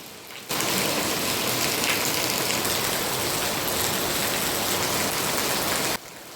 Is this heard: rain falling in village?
yes